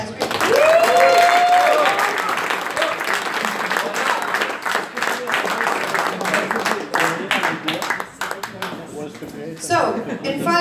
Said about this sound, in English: very big round of applause, guys.